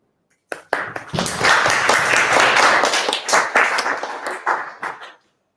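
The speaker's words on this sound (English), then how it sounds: "Let us give a round of applause to Kavya Ramani." An audience at a school speaking event bursts into close, loud hand clapping that starts abruptly, swells into a dense round of applause, then thins to scattered claps and stops.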